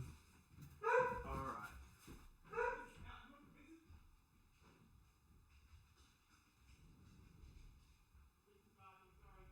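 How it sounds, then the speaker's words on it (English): A dog barks twice, a few seconds apart, fairly close, followed by quieter muffled sounds and faint background noise. "I think my dog is just barking."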